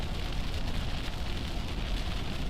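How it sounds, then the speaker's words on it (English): Steady rain falls in a soft, even broadband hiss, fairly faint and continuous with no voices, heard during a severe weather outbreak. "I love hearing the sound of rain."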